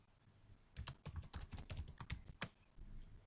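Fast clicking of keys on a computer keyboard, a quick run of about fifteen close, light taps over two seconds, then quiet.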